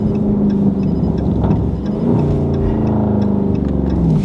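A 500-horsepower Dodge Scat Pack's engine revving hard on an aggressive downshift, a loud, deep, steady roar from inside the car with shifting pitch and a brief dip midway, plus a faint periodic ticking.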